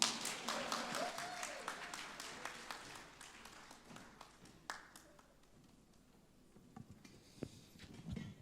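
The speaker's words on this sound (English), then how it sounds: "Can you clap for me?" An audience at a panel event on ethical governance breaks into scattered applause, loud at first and then thinning into sporadic individual claps that taper off and briefly pick up again near the end.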